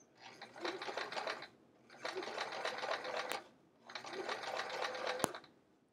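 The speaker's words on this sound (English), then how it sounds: "So while I sew," A sewing machine stitches fabric handles in three distinct bursts of rapid, close mechanical clatter, each lasting just over a second and separated by brief pauses.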